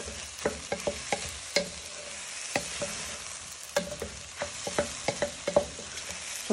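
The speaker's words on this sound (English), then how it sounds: "give it a little bit of a toss in with your onions, garlic, peppers and mushrooms" Rice tossed in a pan with onions, garlic, peppers and mushrooms for savoury rice, steady frying hiss punctuated by repeated sharp spoon taps and scrapes against the pan, nearby and moderately quiet.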